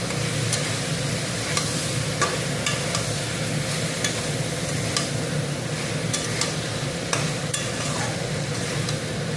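Eggplant fries with cumin powder and salt in a pan, a continuous close sizzle with regular clicks and scrapes of a stirring utensil throughout.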